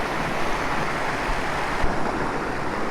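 Water pours steadily down stepped rock at the Perandapalli forest waterfall near Hosur, Tamil Nadu, a continuous broadband rush with no voices.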